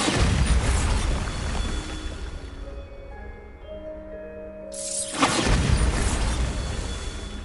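Bombarda spell explosion in Hogwarts Legacy: a loud rumbling blast that fades into a quiet, tonal lull, then a second sudden burst of noise erupts and stays loud.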